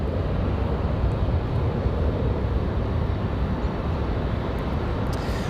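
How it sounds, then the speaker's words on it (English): A United Boeing 737-900 at Raleigh Durham International prepares for departure: a loud, continuous jet engine roar with dense low rumble, steady and close, no voices. "United 2642 off to Washington Dulles. That 737-900 getting ready for departure."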